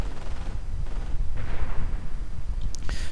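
Artillery barrage pounding troops in a real-time strategy war game, with a rolling series of heavy booms and gunfire bursts filling the clip, loud and dense throughout.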